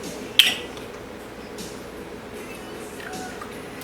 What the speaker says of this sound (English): Whisk that nice together.